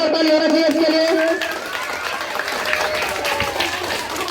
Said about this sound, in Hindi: जोरदार ताली होना चाहिए इसके लिए।